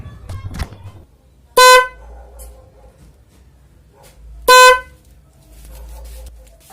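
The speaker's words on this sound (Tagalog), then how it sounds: "na-install na natin yung ating dual horn" Two loud, blaring honks from a dual snail horn installed on a bus, each about a quarter second, sounding a few seconds apart, with some clattering and quiet between them.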